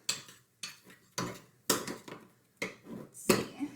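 A honey face mask being stirred in a bowl gives a close series of sharp clinks and taps in irregular bursts, separated by short quiet gaps.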